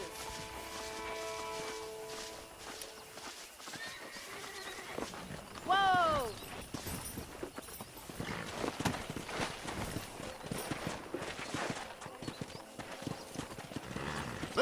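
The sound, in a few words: horses galloping in a video game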